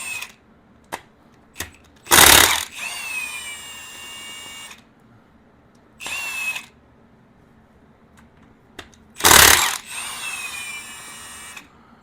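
Power tool removing bolts from the cylinder head of a 2007 Yamaha FJR 1300 motorcycle engine, three loud bursts of whirring drill noise spaced several seconds apart, with quieter clicks and shop rustling between them.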